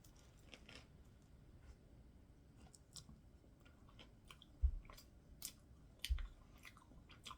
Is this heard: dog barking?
no